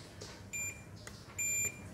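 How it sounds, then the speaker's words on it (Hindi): Multimeter continuity beep sounding while a probe touches ground points on a phone circuit board during supply tracing: two short, steady electronic tones over a faint background hiss, with a small tap between them. "तो ये ग्राउंड ही होता है, तो ये कहीं भी आपको बीप मिल जाएगी"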